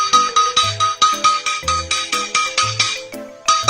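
A telephone rings in a Doraemon cartoon with a call from Suneo, a bright electronic ringtone melody made of rapid repeated beeping notes in an even, looping pattern, loud and close.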